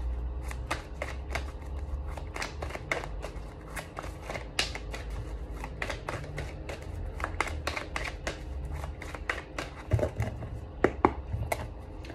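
Tarot cards being shuffled: a continuous run of crisp, rapid riffling clicks and soft flutters, steady and close throughout with no voices.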